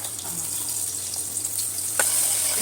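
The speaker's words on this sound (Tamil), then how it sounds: "அதுக்கப்புறமா இதில் வந்து நம்ம கட் பண்ணி வச்சிருக்க ஆனியனையும் நார்மல் ப்ராசஸ் தான் தக்காளி போட்டு வதக்குறோம்." Chopped onion and tomato sauté in hot oil in a home kitchen, a steady close sizzle with faint stirring scrapes and a brief sharper clatter near the end, no voices.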